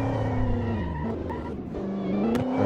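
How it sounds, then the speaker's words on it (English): Dodge race car during an eight-driver race, its engine roaring loud and close with a steady, high supercharger whine riding over the rumble throughout, no talk. "You can hear that supercharger whine."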